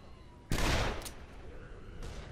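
A gunshot rings out in the zombie video game Dead Island: one loud, sharp blast with a short tail, then a fainter follow-up shot, while players chat in the background.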